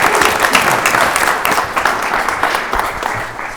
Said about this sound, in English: another round of applause for Paige.